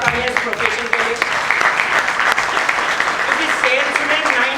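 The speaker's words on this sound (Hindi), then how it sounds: "तो जोरदार तालियां इस प्रोफेशन के लिए" Applause at a sales training program, dense steady clapping from an audience with voices mixed in throughout.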